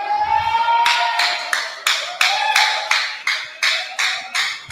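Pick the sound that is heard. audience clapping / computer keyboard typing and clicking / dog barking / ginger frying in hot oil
audience clapping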